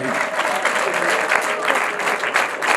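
Audience at a wedding clapping, dense continuous applause close by with a steady rhythm of many hands, a few voices mixed underneath.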